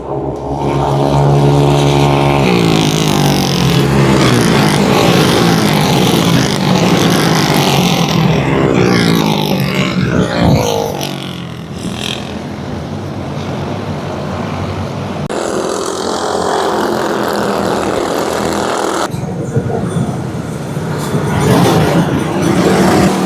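Loud, continuous engine roar of small racing karts screaming around the Clay Pigeon Raceway track during a kart club practice session, pitch rising and falling as they pass close by.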